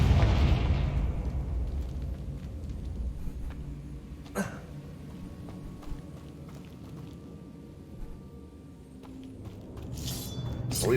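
A Confringo blasting spell detonates in Hogwarts Legacy, opening with a deep, loud boom that decays into a low rumble, followed by a sharp crack midway and another burst near the end.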